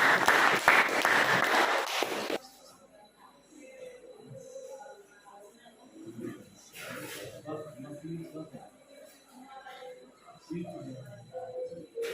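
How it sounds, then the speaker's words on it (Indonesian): Classroom applause for a presenting student group, a loud burst of clapping lasting about two seconds, then a quieter room with scattered voices and shuffling. "Beri tepuk tangan kepada kelompok 3."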